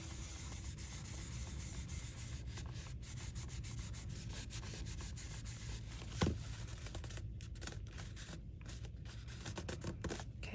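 Glued paper rose petal sides being rubbed by hand, a steady close dry scraping that runs throughout, with one brief louder knock partway through.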